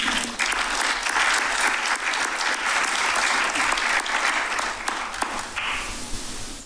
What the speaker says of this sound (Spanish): pido un aplauso por esta maravillosa rampa